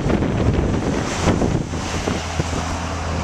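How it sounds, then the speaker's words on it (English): Stiff northwest wind of about 20 mph with gusts roaring across a cold Outer Banks beach, heavy buffeting over the microphone nearly drowning the surf rumbling beneath. "And we have a pretty stiff northwest wind,"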